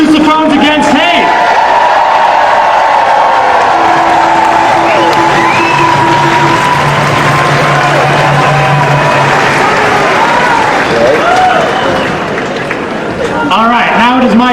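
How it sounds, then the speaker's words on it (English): A large outdoor crowd at a rally cheers, whoops and claps loudly and steadily, with shouts rising above the roar and a few sustained brass-like tones mixed in. "One more big round of applause for the Sousaphones Against Hate."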